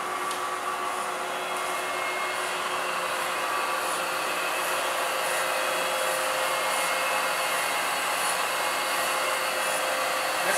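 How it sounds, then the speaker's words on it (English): The blower on a UBE band bread slicer, Model 10, runs with a steady airy whoosh and a constant hum, even and unbroken throughout, fairly close. "We'll turn on the blower."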